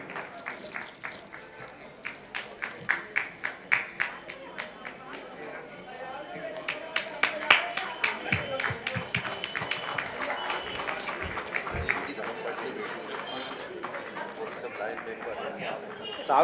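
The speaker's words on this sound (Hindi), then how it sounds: "जोरदार तालियों से राजन साहू जी का स्वागत करें।" Audience applause welcoming an honoree at a Lions Club eye camp closing and award ceremony, a few scattered claps that grow into steady, dense clapping, with talk and chatter underneath.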